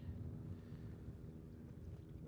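Wind buffets the microphone on a cold, windy day aboard a fishing boat out after crappie, a steady low rumble with a constant roar and faint water noise beneath, no voices.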